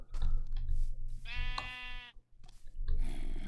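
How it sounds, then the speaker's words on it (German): A single sheep bleat from the Minecraft video game rises briefly out of steady in-game ambience, clear and fairly close, lasting under a second. "Schaf."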